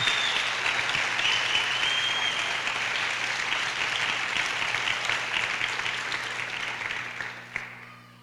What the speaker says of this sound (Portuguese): Você vai aplaudir, aplauda o Senhor com alegria.